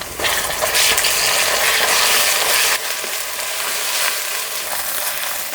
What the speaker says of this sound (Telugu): ఉల్లిపాయలు ఈ రంగు వచ్చాక 2 చెంచాలు అల్లం వెల్లుల్లి పేస్ట్ వేసుకొని పచ్చివాసన పోయే వరకు కలుపుకుందాం